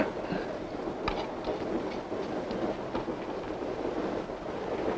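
A train rolls steadily along the rails with a continuous rumble and faint clicking, heard at moderate distance and without talk.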